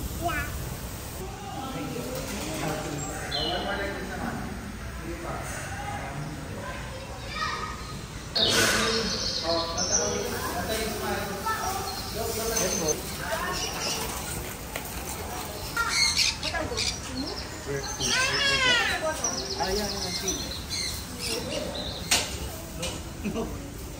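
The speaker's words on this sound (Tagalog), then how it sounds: "Those are the birds in the Lion King." Birds squawk at Manila Ocean Park amid a lively crowd, their harsh calls popping out repeatedly over a continuous wash of children's voices and people talking nearby.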